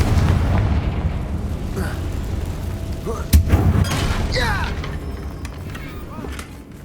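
A Confringo spell in the Hogwarts Legacy video game erupts in a single sharp blast midway through, set against a dense, continuous game soundscape with rumble and whooshing effects.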